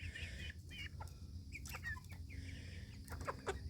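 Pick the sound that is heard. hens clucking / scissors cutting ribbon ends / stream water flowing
hens clucking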